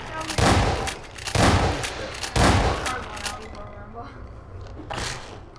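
Loud, sharp shotgun blasts in the video game Garry's Mod, several heavy shots spaced about a second apart, each with a booming tail, the last one a little softer.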